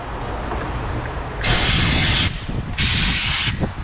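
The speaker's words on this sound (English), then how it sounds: "Now I can blow these runners out." Compressed air blasts through the dirty intake runners of a 300k-mile Ford Escape 3.0 V6 engine in two loud, close, sustained hissing bursts with a short gap between them.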